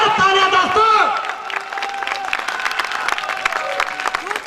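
An audience at a seminar claps loudly and continuously, a dense wash of hand claps with crowd voices and shouting over it throughout.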